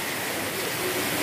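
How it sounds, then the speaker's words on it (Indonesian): Heavy rain falling in a dense, unbroken hiss, loud and close, with no voices. "hujannya deres lho ya ini matur pun ya"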